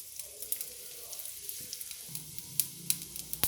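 Mustard seeds, cumin, urad dal and asafoetida sizzle in hot oil for a potato Bombay chutney tempering, a quiet crackle with sharp pops scattered throughout and a low sizzle rising partway through.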